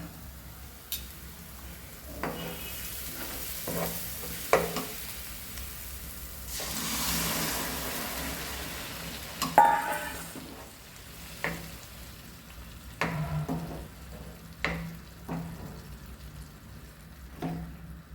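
Mashed chickpeas are stirred into a simmering chole gravy with a spoon, with soft sizzling underneath and repeated sharp clicks and scrapes of the spoon against the pot, close and without talk.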